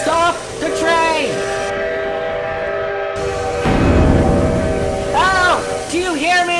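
A runaway train roaring along the rails, with repeated wavering whistle or horn blasts over continuous rumbling, loud and close, plus brief voices mixed in.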